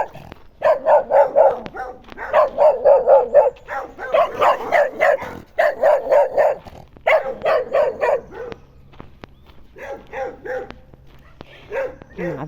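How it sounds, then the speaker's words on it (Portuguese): A small dog on a farm barks rapidly and repeatedly in tight clusters, close and loud, with yips mixed in and a few whimpering notes as the barking eases toward the end. "Aqui sempre tem um cachorrinho que tenta me pegar."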